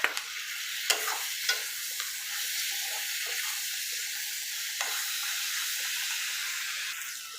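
Onions sizzle steadily in a hot pan with oil, a close continuous hiss broken by a few sharp clicks of a stirring spoon against the pan.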